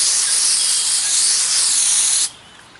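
A water spray rinsing a freshly ground concrete surface, a loud, steady hiss that cuts off abruptly near the end, leaving quiet.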